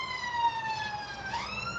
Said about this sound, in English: Alright, there guys, definitely an ambulance.